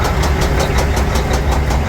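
An old International 9400 truck's diesel engine idles roughly and loud up close, a steady low rumble with a rhythmic knock pulsing through it, and nobody talks.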